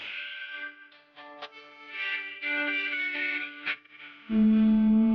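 A distorted electric guitar plays an intro: soft chords that ring out and fade, then a loud sustained power chord crashes in near the end.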